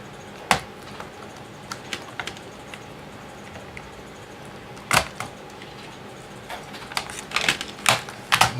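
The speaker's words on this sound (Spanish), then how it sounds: "De esta forma levantamos teclado para arriba." A laptop keyboard is pried up with a screwdriver during disassembly, giving sparse, sharp plastic clicks and snaps at irregular intervals against a quiet background.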